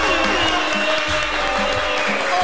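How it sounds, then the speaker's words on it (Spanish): Studio audience applause on a Peruvian entertainment talk show, a brief dense burst of clapping with lively background tones and music underneath, moderately loud and steady throughout. "Un aplauso para los chicos,"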